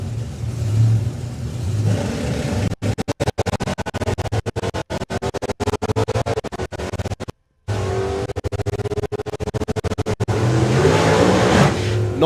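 Nitrous-fed drag racing car at Santa Pod Raceway during European Finals eliminations, a loud engine roar with sharp crackling bursts and a backfire-like pop, harsh and dense for most of the run, with a short break midway.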